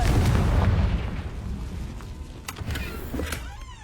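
A Confringo fire spell in Hogwarts Legacy goes off with a loud, booming blast that rumbles and fades away, followed by a few faint crackles.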